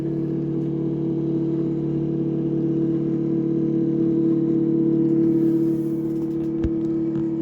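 A small plug-in toy elevator's electric motor hums steadily as the car descends, a constant close whir with a brief click near the end.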